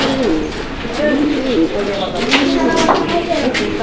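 A European Toy Lahori pigeon gives low, repeated throaty coos in soft rolling phrases, close by, with a busy background of voices and movement at a pigeon market.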